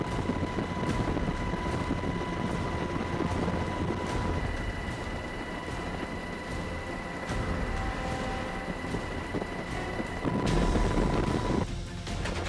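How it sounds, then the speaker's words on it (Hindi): Fighter jets roar across the sky over the Middle East in a dense, continuous roar that holds for about ten seconds before swelling briefly near the end, with no voices. "आसमान में लड़ाकू विमानों की गरज है।"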